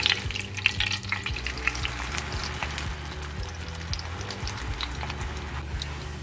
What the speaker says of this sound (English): And I've placed oil in this flat pan. And we're gonna fry it up a little bit, both sides.